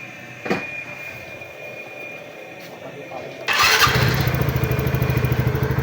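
A TVS motorcycle engine, freshly tuned including its RPM settings, starts up with a loud burst and then settles into a close, steady, rapidly pulsing idle.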